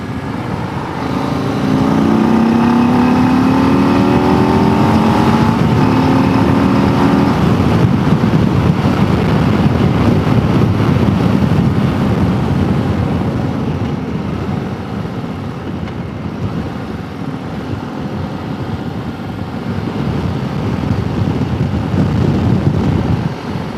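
A Harley-Davidson CVO Road Glide motorcycle ridden in sport mode, its engine a steady loud rumble mixed with heavy wind rush throughout, with a rising tone early on as it accelerates.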